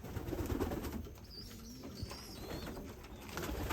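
Pigeon hens coo softly while bathing, low murmuring calls amid faint splashing and background noise, fairly quiet and close.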